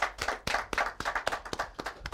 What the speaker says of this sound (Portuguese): uma salva de palmas para todos nós